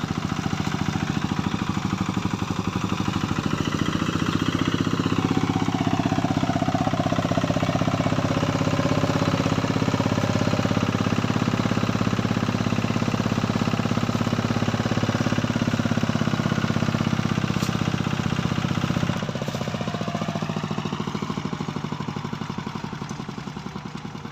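A Thai iTaen farm vehicle with a Mazda single-range gearbox runs steadily up close, its engine clattering and droning loud with a few shifts in pitch as it works, no voices over it.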